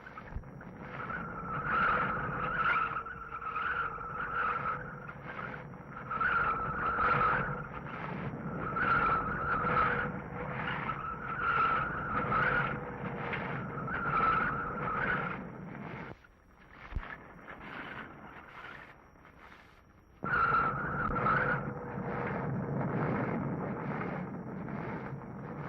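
A car winds down a crooked street with eight hairpin turns in a single block in 1955 San Francisco, tires skidding and squealing in a steady rhythmic pattern with a brief lull midway, moderately loud and close.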